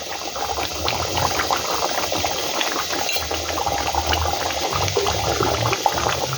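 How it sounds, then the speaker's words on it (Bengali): Katla fish curry boiling uncovered in a pan on a gas flame, a steady close bubbling and popping that runs throughout with no talking. "এবার বিনা ঢাকনায় গ্যাসটা স্টিম করে ফুটিয়ে ফিরছি"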